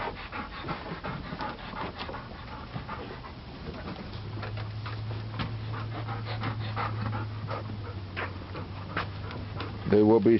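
Ten nearly six-week-old English Golden Retriever puppies pant rapidly and continuously close by, with brief whimpers, a low hum and people talking over the panting.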